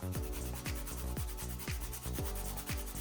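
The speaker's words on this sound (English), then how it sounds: "So next what we're going to do is to grate the ginger." Fresh ginger, lightly peeled, grated by hand for Jamaican coconut drops, making steady rhythmic rasping strokes roughly twice per second, close and continuous, with no voices.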